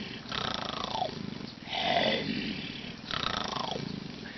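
A man imitates a tiger with his voice, letting out three drawn-out, rumbling roars in a row, each rising and then trailing off, with short pauses between them and no other talk.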